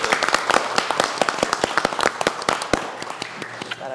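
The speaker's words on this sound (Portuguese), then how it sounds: "a gente fique de pé e aplaude os nossos servidores" Standing applause during a plenary council session: many sharp, irregular hand claps close by, loud and uneven, continuing for several seconds with no talk over them.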